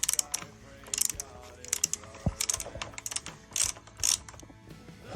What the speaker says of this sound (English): Just need to tighten these two bolts.